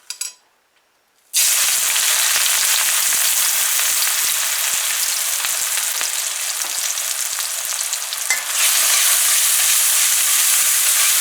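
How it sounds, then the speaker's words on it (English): Onions frying in hot oil for Guyanese chicken curry with potatoes, a loud steady sizzle that bursts in abruptly and holds with small crackles and brief stirring, no voices. "we're just going to fry this for a little bit at first"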